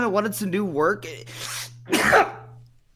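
Someone speaks, then lets out one sharp, forceful sneeze near the mic, which trails off into breath.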